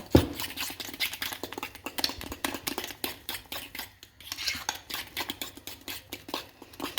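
A spoon stirs dumpling dough for kohlrabi soup in a bowl, giving steady, close scraping and tapping strokes in a quick, even rhythm that continues without pause.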